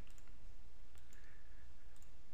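Computer mouse clicks on a File menu, a few sharp, faint clicks spaced irregularly over a low, steady background hum.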